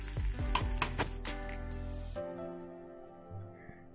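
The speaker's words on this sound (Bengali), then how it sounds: "এই রান্নায় চালটাকে খুব বেশি ভাজার প্রয়োজন হবে না," Basmati rice frying briefly in oil in a pan while making Old Dhaka beef tehari, a steady close sizzle with a few sharp stirring clinks early on, then the frying fades to a quieter hiss.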